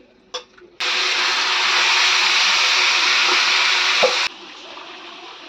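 Whole cumin, bay leaves and dried red chillies hit hot oil with a sudden loud hiss, a close, dense sizzle that holds for about three and a half seconds before cutting off, with a light clink before and after.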